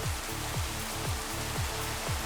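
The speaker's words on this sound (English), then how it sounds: "it's cold, it's wet, and it's rainy" Steady rain in a survival video game, a dense even hiss of falling water with a repeating low rhythmic pulse underneath, continuous and without talk.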